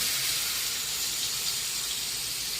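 Cumin, asafoetida, turmeric and tomato sizzling in hot tempering oil, giving a continuous, even hiss that stays steady and close with no speech.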